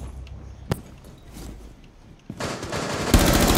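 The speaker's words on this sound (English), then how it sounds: "He shot me through the wall." Rapid bursts of gunfire in Rainbow Six Siege close out a short stretch of game ambience, with a lone sharp shot early on and a dense automatic volley at the end.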